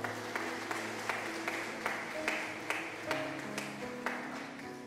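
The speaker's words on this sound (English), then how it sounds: "Please give him a round of applause." An audience applauds the young conductor at an evening hymn concert, steady clapping with a sustained organ or instrumental chord underneath, moderate level throughout.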